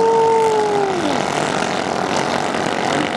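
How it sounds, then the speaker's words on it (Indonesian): Roaring engines of 3-meter high-speed racing boats in a race heat in Bulungan, a loud continuous droning buzz with a falling pitch as a boat passes by, and no talking over it. "Suara mesin mereka juga macam petir."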